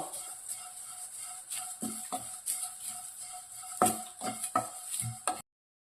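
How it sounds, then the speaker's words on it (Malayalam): A spoon scrapes and clinks through dried shrimp and grated coconut dry-roasting in a pan for Kerala-style chammanthi podi, making quiet, intermittent stirring and scraping strokes with a few sharper knocks, no voices, before cutting to silence. "ചെമ്മിനും തേങ്ങയ്ക്കും ആവശ്യമുള്ള ഉപ്പിട്ട് കൊടുക്കാം നമുക്ക് വീണ്ടും അങ്ങോട്ട് ഇളക്കി കൊടുക്കാവേ"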